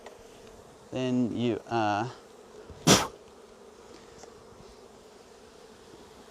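Bees drone steadily around an open hive being smoked while someone speaks briefly over them, followed by a sharp burst of noise.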